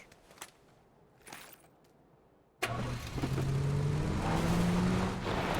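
A Mini car engine starts up in a video game: after a few faint clicks, the engine catches suddenly and settles into a steady, loud running hum with a rising tone.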